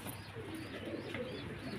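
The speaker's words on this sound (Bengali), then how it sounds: "ক্যাপাচিনো রানিং কবুতর" A Cappuccino Running pigeon coos in a low, soft, continuous murmur close by, faint and alone without voices.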